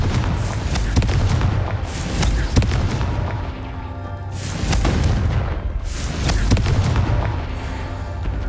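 A Confringo blasting spell explodes in the video game Hogwarts Legacy, a series of loud, deep booming blasts, each bursting and rumbling away in turn, with no talking over them.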